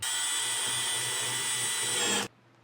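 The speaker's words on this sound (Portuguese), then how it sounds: "com o parafuso A, vamos fazer a fixação dessas peças aqui também" Power drill driving screws to fasten Sicília kitchen cabinet pieces during assembly, one steady high whine running continuously for about two seconds and then stopping abruptly, loud and close with no talking.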